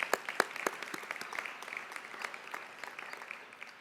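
Applause at a high school seniors ceremony, a steady patter of many hands clapping, fairly distant, gradually fading.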